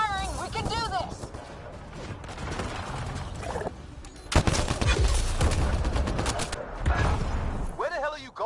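Sustained gunfire in the Mass Effect Andromeda opening battle, with loud bursts of shots and impacts building in the middle of the stretch amid chaotic combat noise and electronic effects.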